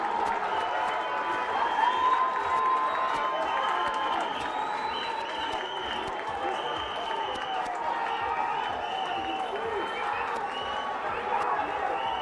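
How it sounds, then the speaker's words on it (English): A football match crowd roars and cheers in a continuous distant wash of noise, with scattered clapping, under a commentator's voice. "Can hear the crowd now getting behind it"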